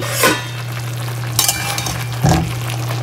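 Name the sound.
chicken curry boiling in a pot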